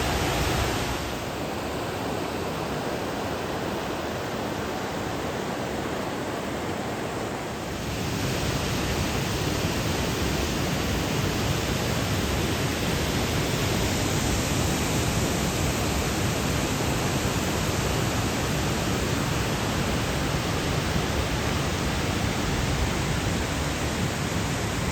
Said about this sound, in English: This is Evolution Creek. We have to ford this.